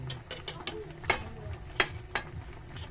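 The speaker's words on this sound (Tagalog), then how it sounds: "pakulo-kulo para maluto silang lahat" A pot of ginataang tulingan, tuna in coconut milk with pechay and kangkong, simmers quietly with a soft bubble, broken by several sharp clinks and scrapes of a utensil stirring.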